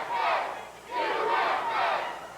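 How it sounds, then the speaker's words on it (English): An arena crowd at a 2001 RMCW wrestling show chants in two-beat rhythmic swells, rising and falling three times; the chanting is loud and sustained, with no talk over it. "the crowd not showing any respect to Super Destroyer. Chanting USA, USA."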